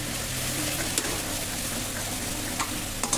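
Spices with a spoonful of chilli powder fry and get stirred in a pan, giving a steady, close sizzle throughout with a few small clicks of the spoon against the metal.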